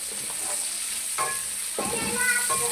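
Large onions sizzle steadily in ghee for a gravy, a close, dense frying hiss with a few soft stirring scrapes and clinks over its short length.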